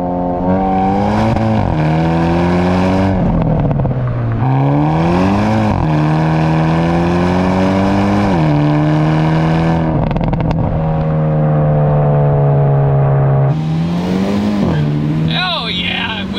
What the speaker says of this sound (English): Oh yeah, wheel spin, that's what I'm looking for. The turbocharger in this spools up pretty quickly.